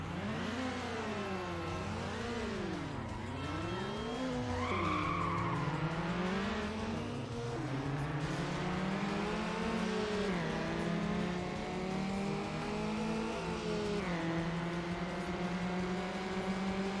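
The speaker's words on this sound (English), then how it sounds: "We're racing against the same car." Race cars in the video game Need for Speed Underground, engines revving with swooping pitch, tires squealing in skids, then a sustained climbing acceleration, loud and continuous with no talk.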